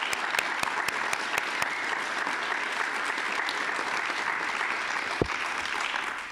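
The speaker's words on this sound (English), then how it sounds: "Let's give him a round of applause." An audience at a county awards ceremony gives a steady round of applause, fairly distant and even, with a few sharper individual claps near the start.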